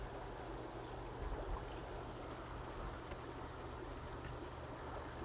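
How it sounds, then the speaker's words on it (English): Even, vigorous bubbling fills the aerobic chamber of a Zoller Fusion wastewater treatment system, a steady soft rushing hiss of aeration with a low hum underneath, continuous and fairly quiet. "what we're looking for is even and vigorous bubbling across the aerobic chamber"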